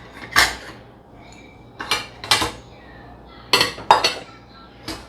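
Plates and dishes clattering as they are put away after a meal in a home kitchen, several sharp separate clinks and knocks spread irregularly with quiet gaps between them.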